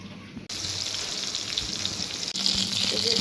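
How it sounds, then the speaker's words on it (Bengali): Sliced brinjal mixed with salt frying in a pan, a steady bright sizzle that starts abruptly after a brief pause and continues loudly, with a short break near the end before resuming. "এখন আমরা বেগুনটা ভাজবো।"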